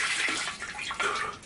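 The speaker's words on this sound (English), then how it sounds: "Jesus, he just threw up." Vomiting sound effect on a television talk show set: a short burst of wet, gushing splashes that surge and ebb twice, fairly loud and close, with no voices over it.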